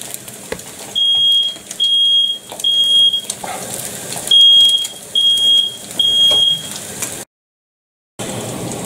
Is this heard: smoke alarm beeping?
yes